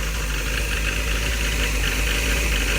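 A Toyota AE86 engine runs steadily under the open hood, shaking a lot after a new distributor was fitted, with a continuous close rumble and knocking vibration throughout and no talk.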